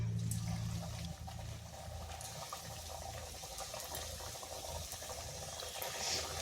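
Potato patties dropped into hot oil in a pan over medium heat, giving a steady, close sizzling hiss and crackle that holds throughout without talk.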